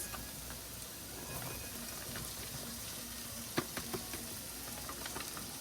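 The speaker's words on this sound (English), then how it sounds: "Pancetta goes in. Keep sauteing this. Saute it well." About four ounces of pancetta sautéing with garlic in a pan, a soft, steady sizzle running throughout with a few brief louder clicks and pops near the middle.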